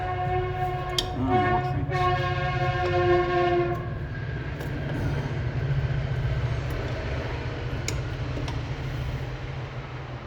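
Train passing a railway crossing, with a loud sustained horn blaring over a steady rumble of rolling cars, then the horn stops and the wheels keep droning on.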